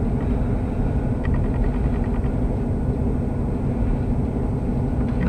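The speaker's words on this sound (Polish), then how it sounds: "tak, to będzie pogłębiarka" A dredger working on the water gives a steady, low mechanical rumble that holds evenly throughout, heard from a boat moving along nearby, with no voices.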